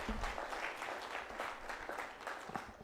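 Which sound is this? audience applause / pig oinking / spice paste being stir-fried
audience applause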